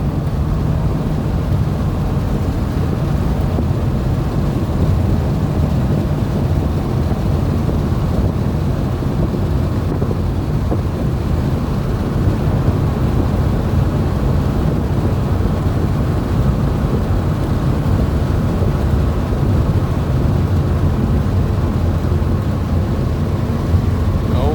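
Inside a 1969 Porsche 912 on the move, a steady low engine drone blends with heavy rushing wind noise, loud and unbroken throughout with no voices.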